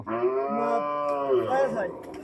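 A two-toothed cow at a busy cattle market lets out one long, loud, close moo that tapers off, with no talk over it.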